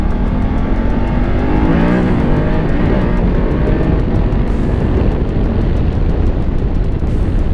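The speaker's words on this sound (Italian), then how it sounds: "A 4000 giri questa moto spinge tantissimo." A loud BMW F850GS 2018 motorcycle engine roars close by, revving and pulling hard as it accelerates around 4000 rpm, steady and dominant throughout with no talking.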